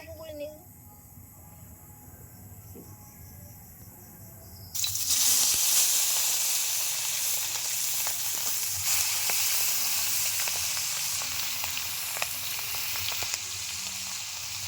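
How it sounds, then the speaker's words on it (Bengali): Quail frying in oil with a marinated spice paste, a quiet start then a loud, steady sizzle from about five seconds on that holds close and dense to the end. "এই মশলা দিয়ে আমি ভালো করে শেখে নেব"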